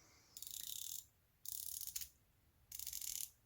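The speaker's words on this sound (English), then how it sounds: "It is a 120 click unidirectional bezel." The 120-click unidirectional bezel of a Phorcydes PH1 500m dive watch is turned in three short runs, each a fast, fine ratcheting buzz of tiny clicks, close and faint against a quiet background.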